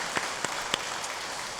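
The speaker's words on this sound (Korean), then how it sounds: "우리 박수로 환영하겠습니다." A church congregation at a Sunday worship service applauds to welcome a newcomer: brief, faint, scattered clapping with a few sharper claps, no voices.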